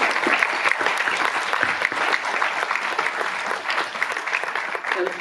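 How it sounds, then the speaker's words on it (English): Graduates and guests at an annual recognition ceremony break into sustained applause, dense steady clapping from a large crowd filling the room. "Please give yourselves a big round of applause"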